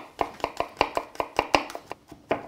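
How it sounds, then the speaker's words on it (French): Rapid, even knife taps on a cutting board as garlic is chopped finely, about a dozen crisp chops in quick rhythm, close and fairly quiet. "je vais essayer de la hacher le plus finement possible"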